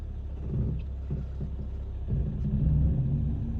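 A car's engine shudders close to stalling during a driving-test parking manoeuvre, a low uneven rumble that judders and swells toward the end, with no talk over it.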